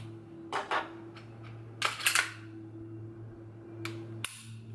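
Dry-fire trigger clicks and reset of a Walther PDP 5-inch full-size pistol: a handful of sharp, close mechanical clicks in small clusters over a steady low hum, with no talking.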